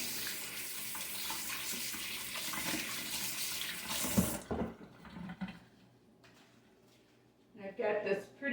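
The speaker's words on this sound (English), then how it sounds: "I'm gonna rinse my hand off." Tap water running over a hand being rinsed at a kitchen sink, a steady splashing hiss for about four seconds that then stops, followed by quieter handling sounds and a brief later burst of water; talk is heard alongside.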